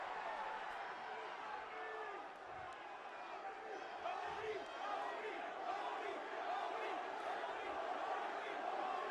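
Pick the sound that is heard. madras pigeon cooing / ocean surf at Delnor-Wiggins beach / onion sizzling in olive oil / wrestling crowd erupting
wrestling crowd erupting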